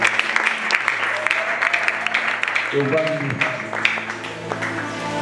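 Church congregation applauding after a call to acclaim the word of the Lord, a dense steady patter of many clapping hands filling the room, with a sustained tone entering partway through.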